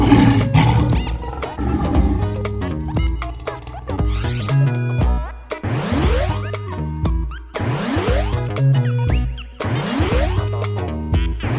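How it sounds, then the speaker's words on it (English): Several loud lion roars in a row from a jungle-animal segment for kids, each a deep, rising-and-falling roar set over a busy cartoon music background. "Lion."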